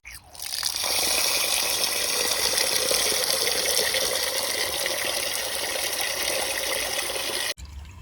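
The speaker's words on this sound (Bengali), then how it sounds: "এইভাবে চালগুলো পরিষ্কার করে নিতে হবে চালের ময়লাগুলো বের করতে হবে" Rice being washed under a steady, close rush of running water that pours on without a break and cuts off sharply near the end.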